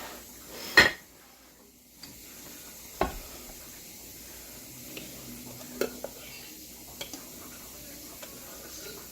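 Banana nut bread batter is spooned into greased loaf pans, with a few sharp clinks of a utensil against the pans and soft scraping over a quiet kitchen background.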